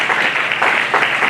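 A congregation at a Sunday thanksgiving church service applauds and cheers, a dense, steady wash of clapping that swells in waves for the whole moment.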